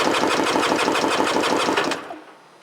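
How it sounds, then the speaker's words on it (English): 1996 Tigershark Monte Carlo 900 jet ski engine cranking over on the starter during a compression test, a fast, even, loud rhythmic churning for about two seconds that stops abruptly. "Compression test the engine."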